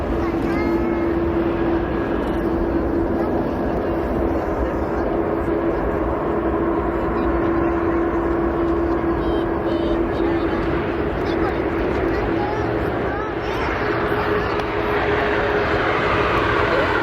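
Greater Bay Airlines Boeing 737-9 MAX taking off from Narita runway 34 left, a loud sustained roar of jet engines with a steady whine, with radio talk in the background.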